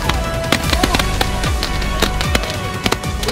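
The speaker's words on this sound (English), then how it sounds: "Sending the fireworks off in the middle of the lake." Fireworks set off in the middle of a lake at night, bursting in a rapid string of sharp bangs and crackles with a few rising whistles, loud and close over a steady background.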